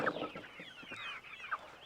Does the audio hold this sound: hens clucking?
yes